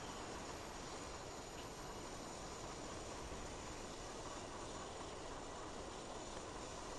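Steady, even roar of a Gripen fighter jet flying in a flight simulator game, a constant broadband rush with no change in pitch, fairly quiet and unbroken throughout, with no talking.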